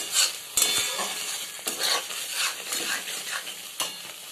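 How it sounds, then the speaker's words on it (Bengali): Spice paste (masala) for coconut pickle frying and being stirred in a pan, with a steady close sizzle broken by scraping strokes and short louder bursts. "আমি একটু মশলাটা কষব"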